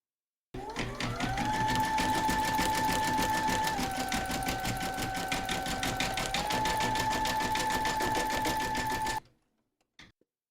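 A sewing machine stitches the outline of a gift card holder, running at a fast, steady mechanical chatter for about eight and a half seconds with slight speed shifts, then stopping, followed by a faint click.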